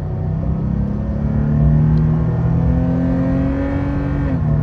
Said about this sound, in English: you're really gonna have to be intentional about revving it all the way out to hear the intake.